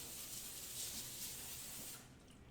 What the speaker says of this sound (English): I like to use the cooking spray because it'll control how much oil you're using